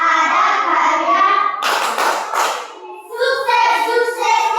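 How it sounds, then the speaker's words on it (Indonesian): A group bursts into hand clapping for about a second and a half, a bright, dense burst of applause that falls between stretches of a voice speaking before and after. "Tepuk tangan untuk kita semua dulu."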